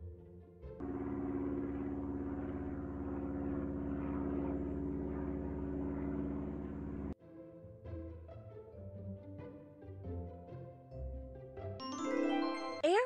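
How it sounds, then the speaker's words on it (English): A steady droning airplane engine hums for several seconds, then cuts off and gives way to a brighter tonal jingle. "Airplane is a vehicle designed for air travel that has wings and one or more engines."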